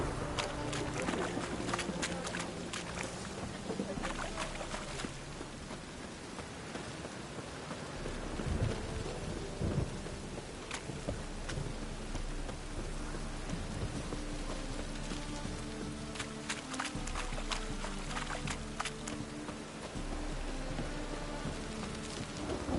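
A thunderstorm in The Witcher 3 brings steady, dense rain hissing on surfaces, with deep rolling thunder swelling twice in the background and no speech.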